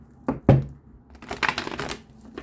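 Tarot cards riffle and slap together in a few quick bursts, with a couple of sharp thumps early on, close and fairly quiet.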